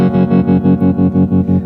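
An electric guitar played through a Boss GX-10 effects unit with distortion, chorus and an 80s-style plate reverb, chasing a mid-80s tone, sounds as loud, rhythmic, evenly pulsing sustained chords, with no voices.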